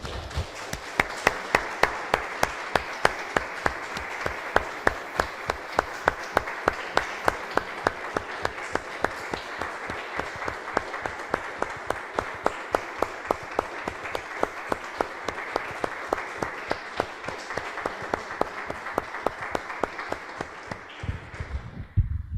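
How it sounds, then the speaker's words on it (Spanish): A church congregation claps together in a steady, even rhythm for over twenty seconds, sharp hand claps repeating at a regular beat before stopping abruptly near the end. "Damos un aplauso, hermanos, al Señor."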